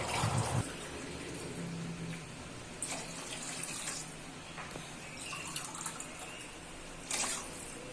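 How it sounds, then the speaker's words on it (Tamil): Water runs from a tap into a pan of half-cooked carrots, beans and masala for Tamil semiya kichadi, a steady splashing stream with a few clinks of the pan, close and alone. "தேவையான அளவு தண்ணி ஆட் பண்ணிக்கிறேன்."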